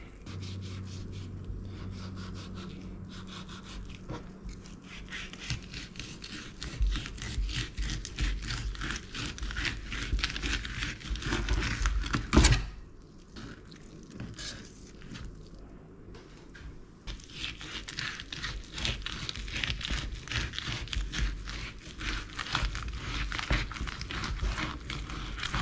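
A knife saws steadily through a graphic tuskfish while it is being filleted, giving a continuous rough scraping and rubbing with a brief sharp crunch partway through. No one speaks.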